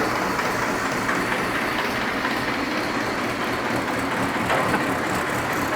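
A tractor's PTO shaft spinning at its normal speed, heard as a loud, steady mechanical roar and rattle that runs unbroken the whole time, with no talk.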